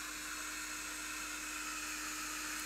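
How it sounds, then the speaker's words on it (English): A hairdryer blows to dry an acrylic underpainting for an oil portrait, giving a steady loud whirring hum with an airy rush that holds unchanged throughout. "I'm just going to get the hairdryer on this, so excuse the noise for a second."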